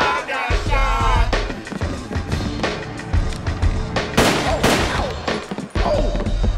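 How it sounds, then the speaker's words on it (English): Gunshots ring out as a rapper is shot on stage in an animated cartoon, several sharp cracks in quick succession over music and crowd noise, with loud bursts near the end. "three men rushed the stage and shot him"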